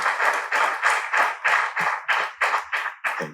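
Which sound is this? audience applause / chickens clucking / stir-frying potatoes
audience applause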